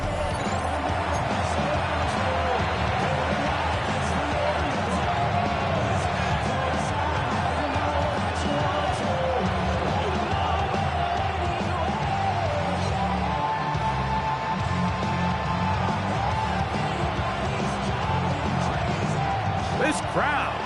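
In a Madden football video game, a steady stadium crowd roars and cheers throughout, loud and constant, with a commentator talking over it.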